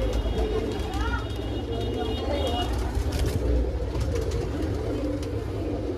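Teddy Rampuri pigeons coo softly amid steady background noise, with faint low murmuring calls repeating through a continuous ambient hum.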